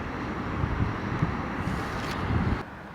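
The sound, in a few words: wind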